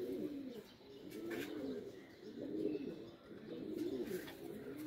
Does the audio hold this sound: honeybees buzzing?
no